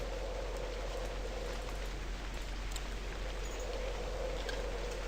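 Steady rain in the Novus Inceptio survival video game, a constant even hiss of falling drops with no pauses and no voices.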